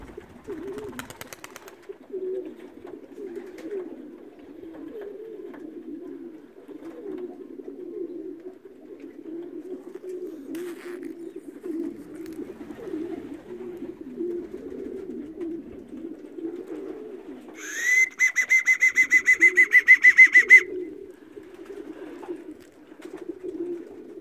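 Racing pigeons cooing steadily nearby for about half an hour of flight time, a low continuous murmur throughout, with a brief sharper chirping burst near the end.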